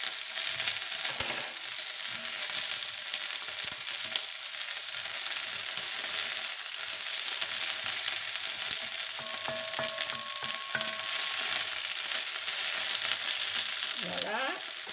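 Chorizo sizzling in a pan for paella, a steady close frying hiss that holds throughout, with occasional small clicks and scrapes from stirring.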